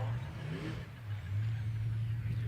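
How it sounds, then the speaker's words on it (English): A racing engine at an ASBR STIHL Pro Racing boat race, idling low with a light rev near a boat launch before elimination rounds, steady and moderately quiet with a faint tonal hum. "James revving his engine a little bit, getting a feel for the driver's side"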